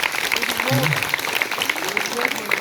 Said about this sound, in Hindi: तो तालियां उनके लिए प्रधान के लिए